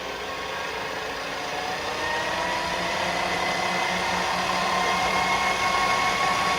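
A Colchester lathe on a variable speed drive, a steady close whine and motor hum that rises gradually in pitch and loudness as it speeds up, with no talking.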